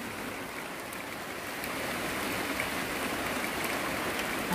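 Heavy monsoon rain pours steadily near a reservoir, a dense continuous hiss that grows slightly louder partway through, with no voices.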